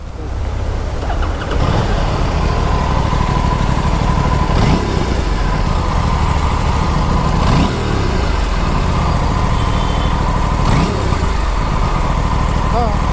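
An Aprilia RS 457 motorcycle engine idles loud and close with a metallic 'chhan chhan' rattle, while a few brief revs or knocks recur at intervals over a steady engine drone.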